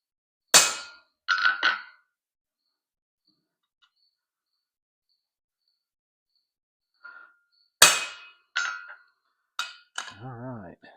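Hammer blows ring out on a steel knife blade sitting on an anvil as a maker's mark is stamped: a few sharp metallic strikes with long quiet gaps, then a final cluster of taps, all close and crisp.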